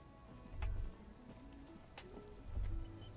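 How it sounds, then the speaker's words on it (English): Steady rain falls in the Disco Elysium video game, a soft hiss with two brief low thumps and a few faint tonal notes over it. "Stuck in the rain in a traffic jam"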